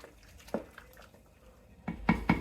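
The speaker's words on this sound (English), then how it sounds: "Give it a good stir." A spoon stirs homemade tomato salsa with fresh cilantro in a cooking pot, giving a few soft, close clanks and scrapes against the pot, with two louder knocks near the end and no talking.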